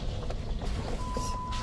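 Jeep driving along a rough trail near Jackson Falls, a close low engine rumble with bumps and rattles throughout, briefly joined by a thin high beep.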